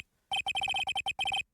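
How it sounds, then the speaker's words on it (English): A telephone rings in the Phoenix Wright video game, a bright electronic ringtone of about a dozen rapid pulses in quick succession, close and clear with no talk. "All of a sudden, the phone began to ring."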